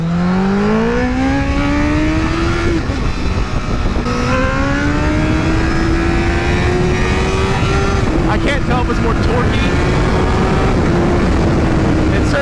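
A motorcycle fitted with a Yoshimura R-77 open exhaust is ridden hard, its loud raw engine note climbing steadily through the gears. The pitch drops briefly at each shift, then rises again, close and constant throughout.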